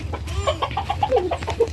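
Game chickens cluck in a short run of close, clear, repeated calls over low background noise, with no talk.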